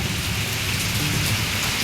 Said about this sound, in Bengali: এখন মেঘ ডাকছে,